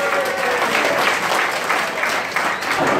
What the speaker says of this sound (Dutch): Mag ik dan even een waanzinnig applaus hebben voor al onze klanten die hier zijn?